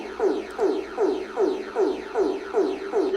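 Emergency alert tone from Barbados, a pulsing electronic pattern of about seven repeated descending sweeps over a steady rhythmic beat, fairly loud and alone, with a club-music feel.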